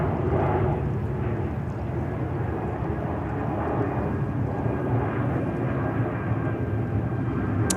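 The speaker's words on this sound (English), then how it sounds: "American Airlines 777." American Airlines Boeing 777 airliner at JFK airport, a broad steady jet roar rumbling throughout at moderate distance with no voices.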